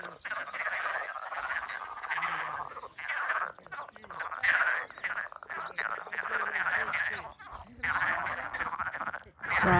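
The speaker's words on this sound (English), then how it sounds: "Frogs." Frogs croak in a loud, dense mountain chorus, with overlapping raspy calls pulsing steadily and close for the whole stretch, broken only by brief gaps.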